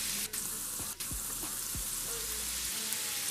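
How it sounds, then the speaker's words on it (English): Chorizo frying in a pan as its fat renders out, a continuous close sizzle and crackle with a few brief stirring scrapes and knocks. "Let this go till it starts to render out some of that fat and get all delicious looking."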